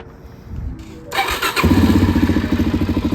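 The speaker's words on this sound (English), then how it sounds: "Let's go ahead and give this bike a start." A 2017 Suzuki DRZ400SM motorcycle cranks and catches, then settles into a loud, close, steadily thumping idle with a regular pulsing beat.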